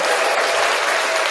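Steady, loud applause from a live podcast audience, a dense wash of clapping holding evenly throughout the short burst.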